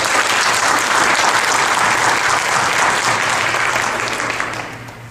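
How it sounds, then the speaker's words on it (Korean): A church congregation in a Korean community church applauds its new worship accompanist, loud continuous clapping filling the room before gradually dying down at the close. "우리 집사님께 감사와 또 격려의 박수 한번 보내드리겠습니다"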